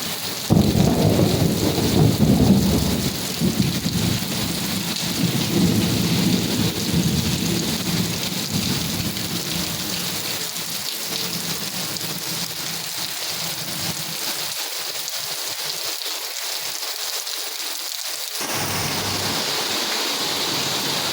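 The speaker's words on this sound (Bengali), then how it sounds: "কি জোরে জোরে মেঘ ডাকে।" A morning thunderstorm with heavy rain pouring steadily nearby, deep thunder rumbling loudly early on and the downpour continuing after, with no talk.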